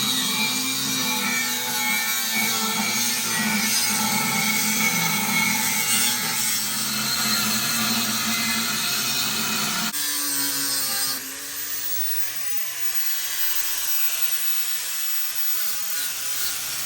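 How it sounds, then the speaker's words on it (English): Steady, loud abrasive grinding and cutting on a steel tow hitch receiver on an LBZ truck, running continuously before a brief pause and a lighter tone of cutting near the end. "Now that we grinded the whole bottom piece and we notched the sides"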